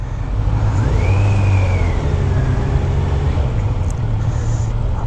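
A 2021 Kawasaki Z900 ABS motorcycle ridden on the track at Sonoma Raceway, its engine droning steadily and loudly up close with a brief rise in pitch as it accelerates, along with constant wind rush.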